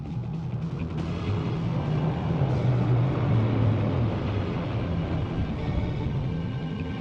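A military aircraft formation of a C-130J flanked by two C-295s flying overhead, a steady, broad low engine rumble and drone that swells slightly mid-pass, loud and continuous with no talk.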